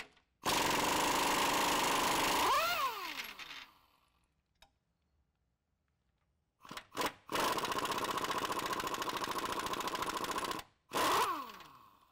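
An impact gun loosens the 18mm and 24mm lower control arm mounting bolts on a 2014-2017 Chevy 1500 4WD, two long loud rattling bursts with winding-down whines, a quiet pause, brief blips between them.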